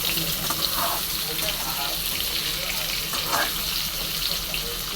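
Bitter gourd fries in a pan with chutney mixed in, making a loud, dense, continuous sizzling hiss that stays even throughout.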